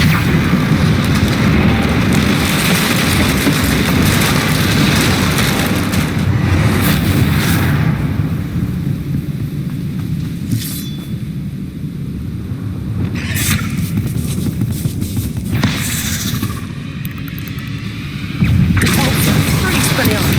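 Confringo and Bombarda spell explosions in the Hogwarts Legacy video game roar as loud, sustained rumbling blasts with booming low-end bursts, dipping briefly midway before surging again, all close and dominating.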